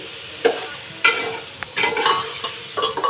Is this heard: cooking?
yes